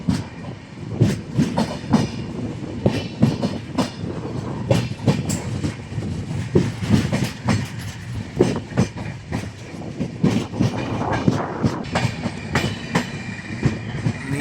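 Netravathi Express running from Mumbai toward Thalassery, heard as a loud, continuous rumble of rail travel with rhythmic clickety-clack of wheels over rail joints throughout, close and steady with no voices.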